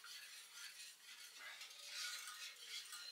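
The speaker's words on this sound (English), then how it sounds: "and then we keep continuing to stir" A spoon stirs chocolate pudding in a saucepan, a soft continuous scraping and swishing close up, quiet and steady with faint clinks.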